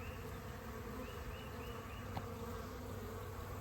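A steady, dense buzzing of a honeybee swarm fills the air continuously, close and constant with no pauses.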